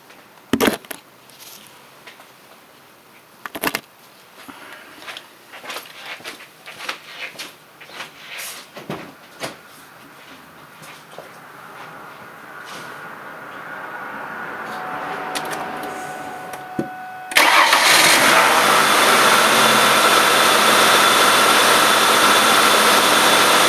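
A 1999 Ford Taurus with a 3.0 Duratec engine is started after cleaning near the spark plug wires. Scattered clunks and knocks come first, then a cranking build-up, and the engine catches into a loud, steady running roar.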